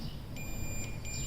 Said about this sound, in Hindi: देखिए मीटर बीप कर रहे हैं।